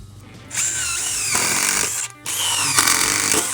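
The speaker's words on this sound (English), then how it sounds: "I'm just gonna go ahead and put some screws in this side too." A power drill drives screws into a deck post sleeve with a loud, close whine that shifts in pitch, breaks off briefly, then runs again.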